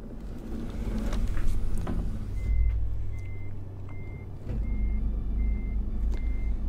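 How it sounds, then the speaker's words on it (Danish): A truck in Euro Truck Simulator reverses on a Scandinavian road, its steady, evenly spaced backup beeps sounding over a loud, constant engine rumble. "Min lastbil bakker!"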